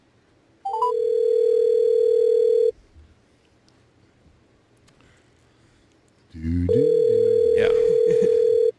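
A phone call goes out on speaker, with two long steady ringback tones separated by a quiet gap, and a person briefly speaks near the second tone.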